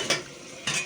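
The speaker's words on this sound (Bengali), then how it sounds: "ভাজা এই চচ্চড়ি হচ্ছে, মেশানো চচ্চড়ি করছি এটা" A mixed-vegetable chorchori is stirred and fried in a pan, giving two short scraping strokes of a utensil over a soft, steady sizzle.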